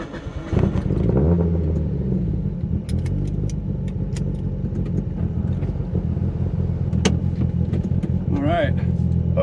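Mitsubishi Lancer Evo 8 with a CAE shifter drives along a road near dusk, a steady engine drone with rising revs beneath a person talking, plus occasional clicks and rattles inside the cabin.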